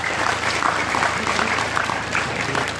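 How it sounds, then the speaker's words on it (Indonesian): Audience clapping for the local health centre (puskesmas) at a community gathering, a short, fairly loud burst of applause over a low steady hum. "Tepuk tangan untuk puskesmas."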